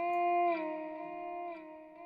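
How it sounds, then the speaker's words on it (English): A short guitar lick sample from an FL Studio beat sounds alone, a few clean sustained notes with a gentle pitch shift, lightly processed and fading slightly. "it's just a guitar kind of lick"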